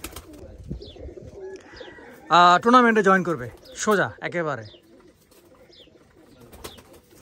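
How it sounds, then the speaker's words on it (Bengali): Pigeons from a breeding pair kept at home coo low and steadily in the background while someone talks over them near the mic. "আমার ঘরে এখনও আছে এই কবুতর পেয়ারটা"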